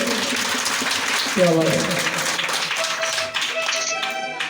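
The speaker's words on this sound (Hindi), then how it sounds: "बच्चे अपने नाम की भी ताली बजा रहे हैं।" Children clap their hands together during a Kali Mata devotional bhajan gathering, a bright crowd patter of many small claps under an adult speaking and a sustained musical tone.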